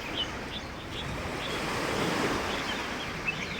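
Waves wash onto a small beach on Lamma Island, Hong Kong, in a steady broad roar mixed with wind buffeting the microphone, while faint bird chirps flick through the top.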